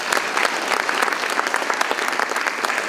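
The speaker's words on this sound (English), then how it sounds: "And a round of applause for ordinance today." A crowd at a city address claps steadily for the city ordinance team, a continuous, fairly loud wash of many hands with no talk over it.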